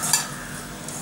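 A brief burst of stirring as potato chaat is mixed with salt, a soft scraping and shuffling of the mixture close up, with no talking.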